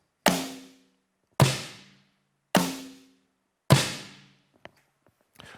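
Four sharp, ringing rim hits from a Yamaha DTX-PRO electronic drum module, spaced about a second apart, each with a bright attack and short decaying tail, followed by faint small clicks.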